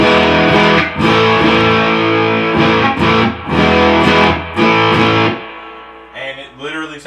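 Electric guitar humbucker driven through a Black Country Customs Steelspark overdrive at full gain with the treble boosted, ringing out loud, crunchy distorted chords in repeated stabs, ending on a short single-note lick.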